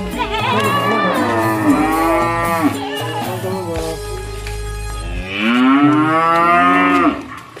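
A cow in a rural Javanese village in Trenggalek moos loudly and close by, two long drawn-out calls with a brief pause between them, with no talk over them.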